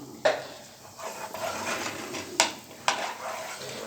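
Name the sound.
minced garlic frying and stirred in ghee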